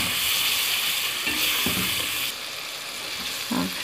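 Vegetables with tomato, turmeric, ground coriander and cumin sizzle steadily in a hot pan while being stirred, a dense close hiss with a few soft scraping strokes and a brief dull knock near the end.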